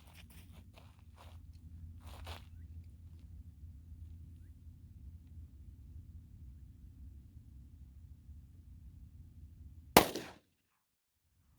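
One loud, sharp gunshot from a .45 ACP pistol loaded with a Speer Gold Dot G2 200 grain +P round bursts out after a long stretch of low hum and faint scraping, then cuts to silence.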